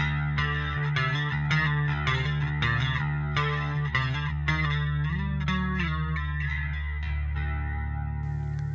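Bass guitar played through chorus and flanger effects in the style of a band's bassist, a thick, swirling modulated tone carrying a steady riff of picked notes, loud and close, with no voices.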